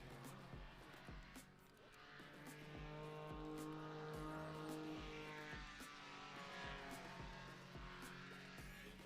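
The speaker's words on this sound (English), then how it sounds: "There's a distinct tone to the Sky engines." A Sky 150 paramotor engine drones at full throttle during a slalom competition, a steady buzzing tone with a faint swell as it passes, heard from a distance under light background noise.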